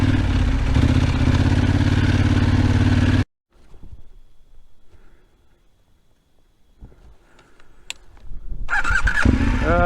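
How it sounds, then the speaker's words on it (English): A big motorcycle engine runs loudly at a steady idle while the bike turns around on a road trip, then cuts out abruptly, leaving faint clatter and shuffling before the engine noise swells back in at the end. "The joys of big motorcycles."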